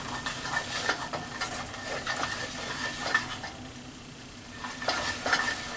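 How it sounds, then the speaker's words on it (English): Sausage gravy thickened with flour is stirred steadily in a sizzling pan, the spoon scraping the bottom in a repeated rhythm over a soft, continuous fry. "Keep the stirring. Keep the stirring constantly"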